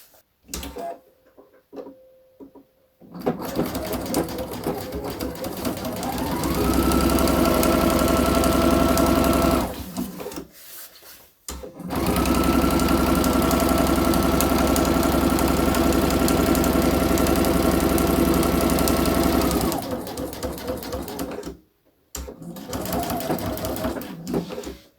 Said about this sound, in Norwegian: Så jeg snur her og syr stikningen motsatt vei.